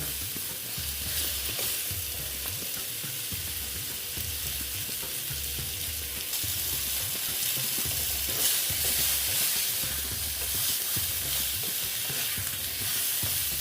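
Pointed gourd (potol) fries with salt in a pan, a steady, close sizzle that runs unbroken with faint bubbling and soft stirring underneath, no voices.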